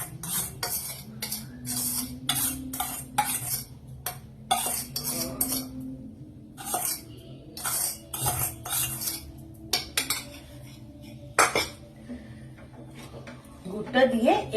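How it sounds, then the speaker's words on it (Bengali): A spoon stirs jaggery into simmering milk in a pot over low flame, scraping and clinking against the metal in short repeated bursts, close and clear, while a voice talks throughout. "তো গুড়টা দিয়ে একটু নেড়ে দিলাম"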